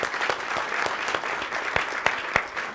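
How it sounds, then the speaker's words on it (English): Audience applause for military veterans at a panel event, a steady patter of clapping from a moderate-sized crowd with a few sharper individual claps standing out, fairly close and without speech. "a round of applause, please,"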